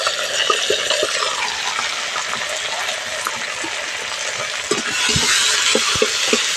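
Ground spices (Kashmiri chilli, cumin, turmeric, chilli and coriander powder) frying in oil over low heat for potol chingri, a steady broad sizzle with intermittent scraping and stirring clicks throughout.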